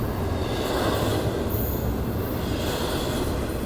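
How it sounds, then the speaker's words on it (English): A Union Pacific intermodal double-stack freight train rumbles steadily past nearby at Richmond station, wheels grinding and faintly squealing on the rails in a continuous, heavy roll. "I think this train is going to Roseville."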